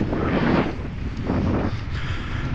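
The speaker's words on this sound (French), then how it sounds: "Là il y a du vent" Steady wind buffets the microphone on a boat in George Town, Bahamas, a loud continuous rumbling roar with gusts swelling and easing, no voices.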